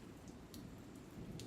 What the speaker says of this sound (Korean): 빗소리 속에서 희미하게 물이 흐르는 소리가 들렸다.